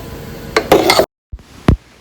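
Moru curry stirred in a pressure cooker: a few close metallic clinks and scrapes of a utensil against the pot, broken by a short silent gap, then one more clink.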